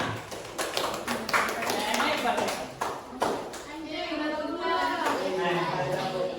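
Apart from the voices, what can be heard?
applause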